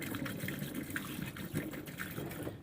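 Plumbing antifreeze poured into an RV drain to flush the P-trap while winterizing, a steady close gurgling gush of liquid that runs without a break for the whole stretch.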